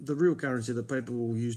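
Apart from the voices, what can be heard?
None of the usual background noises is heard.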